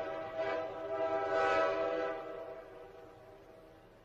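A yellow train sounds its horn, a sustained harmonic blare that swells twice before slowly fading, heard alone at moderate distance.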